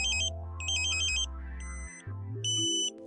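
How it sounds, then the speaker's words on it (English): A satellite modem's pointing meter, used while aligning a dish for KA-SAT at 9° East, plays a clear electronic tone sequence of stepped beeps and warbling pitches, alternating like a siren, loud and alone. "You hear the ambulance tone again."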